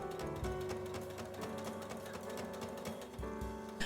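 A sewing machine stitching fabric seams on a scrap sewing project, a fast steady mechanical whir of needle strokes running continuously and close, with a brief pause near the end before restarting.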